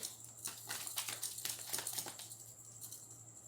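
Tarot cards are shuffled by hand, making quick, soft papery clicks and flutters in uneven bursts. The sound is quiet and close, over a low steady hum, with no talking.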